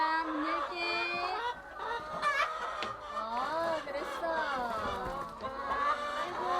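Chickens cluck and murmur steadily in a farm coop, a layered flock close by with no pauses, while faint talk sits underneath.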